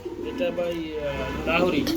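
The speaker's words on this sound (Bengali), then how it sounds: "কি করতেছে ভাই ডাকতেছে এটা কি কবুতর" A male silver Lahori running pigeon coos in low, rolling bursts near the microphone, with people talking over the calls.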